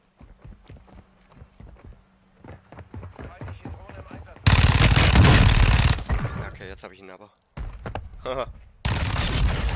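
Gunfire in Warzone 2.0, with loud bursts of rapid automatic shots breaking in after a stretch of footsteps, cutting off and resuming in several blocks while someone talks over the first part.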